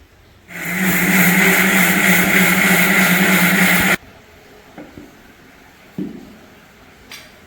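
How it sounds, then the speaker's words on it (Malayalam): A mixer grinder grinds dosa batter with coconut and water for Kerala-style Kannur dosa: a loud, steady motor roar for about three seconds that cuts off abruptly, followed by a few faint knocks and taps. "ഇതൊന്ന് അരച്ചെടുക്കാം"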